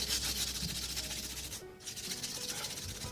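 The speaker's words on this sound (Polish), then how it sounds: "teraz bierzemy skrobaczkę i ścieramy" A hand scraper drags excess wax off a floor panel during a tile and panel repair with a PowerFix ProfiClip kit: steady, close rasping strokes with a brief pause midway.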